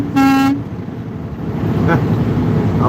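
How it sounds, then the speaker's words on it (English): A truck horn gives one loud, brief honk up close, then cuts off, leaving low engine and road rumble with faint background noise. "Can I please honk the horn?"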